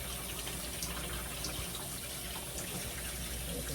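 Tap water runs steadily while rice is rinsed clean in a sink, a constant close splashing gush with no voices over it.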